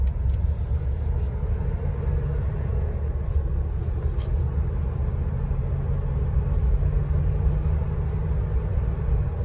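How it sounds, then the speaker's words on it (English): A 2003 Chevrolet Express Regency conversion van drives with a steady, loud engine and road rumble throughout, the drone rising and settling as it shifts through a couple of gears. "Let you see it shift through a couple gears."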